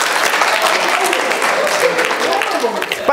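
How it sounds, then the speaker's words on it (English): A church congregation breaks into a loud round of applause during a sermon, dense clapping continuing throughout with voices mixed under it. "A round of applause."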